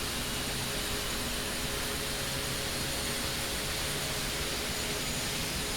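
A Mi helicopter turbine spools up during start-up in the DCS flight simulator, a loud, steady whining roar with a constant high hiss throughout.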